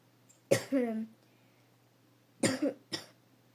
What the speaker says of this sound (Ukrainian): Ой, що я так закашлювався